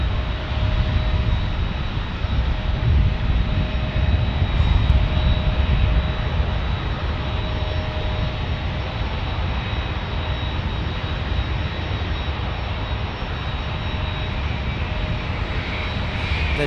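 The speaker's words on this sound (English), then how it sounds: "Dreamliner." A Boeing 787 Dreamliner at San Diego airport roars with a loud, steady jet engine rumble and a broad whine that holds for the whole stretch with no talking.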